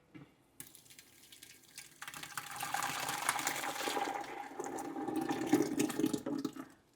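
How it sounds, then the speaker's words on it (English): Blended soft tomatoes poured into a big pot for canning, a liquid gush that builds from a faint trickle into a steady, moderately loud pour, then cuts off. "we're going to pour these into our big pot"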